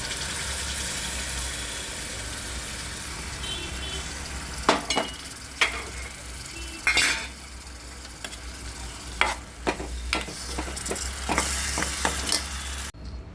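Cumin-coriander masala roasting in a pan for a bombil chutney, with a steady loud sizzle and frying hiss throughout, punctuated by several sharp scrapes and clacks of a spatula stirring, close and without talk.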